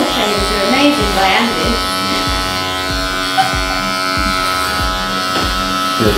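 Electric hair clippers buzzing steadily at close range while cutting a skin fade down to a number one guard, a constant hum with rhythmic strokes, while people talk over it.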